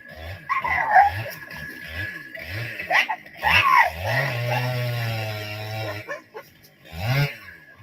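Dog whimpering and yipping close by in a wooded area where dead trees are being felled, a run of short rhythmic yelps rising into a drawn-out high whine, then another yip.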